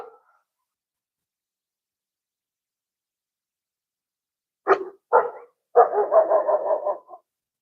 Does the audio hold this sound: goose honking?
no